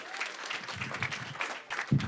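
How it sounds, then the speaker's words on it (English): Brief, patchy clapping from a stand-up comedy crowd, a scattering of hands responding for a couple of seconds with a louder burst near the end. "Clap if you have"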